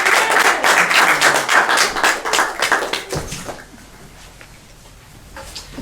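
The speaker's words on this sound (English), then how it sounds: "let's give a nice round of applause for Reverend Marilyn Grant" An audience at a community birthday celebration claps for Reverend Marilyn Grant. The applause is lively and close for about three seconds, then thins out and fades into quiet room noise.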